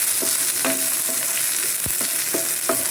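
Garlic, ginger and onion fry over a low flame for a Mangalore village-style prawn curry. A constant soft sizzle is broken by sharp spoon clacks against the pan at an irregular, stirring rhythm.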